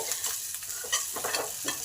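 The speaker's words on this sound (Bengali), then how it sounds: "তার সঙ্গে দিলাম এক চামচ আদা আর কাঁচা লঙ্কা কুচি এইগুলোকে একটু ভালো করে ভেজে নেব" Chopped ginger and green chili sizzle in hot oil in a pan on low heat while being stirred, giving a steady fry with repeated scraping stir strokes, close and alone without talk.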